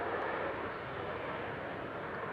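A tanker aircraft with two big Rolls-Royce Trent engines at full power at an airshow, a steady, dense, continuous roar with no break.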